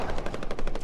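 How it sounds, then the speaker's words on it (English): Rapid automatic gunfire in the Call of Duty Warzone video game, a fast burst of evenly spaced shots aimed at the player, loud and continuous for under a second. "Oh, he's shooting at me now."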